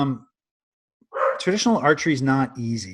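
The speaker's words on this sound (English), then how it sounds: "So sorry about my dog here" A pet dog barks and yips briefly at the start of a podcast recording, then a person speaks over the quiet room.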